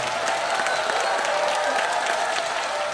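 Dense, steady applause from a lecture audience at a Democratic Party leadership candidate's talk in Bucheon, loud and continuous throughout with no pause.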